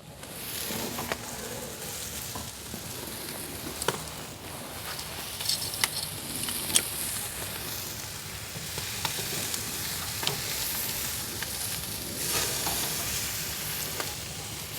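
Skirt steak sizzles and spatters steadily on a Hasty Bake Legacy grill, a continuous frying hiss broken by small pops and crackles throughout.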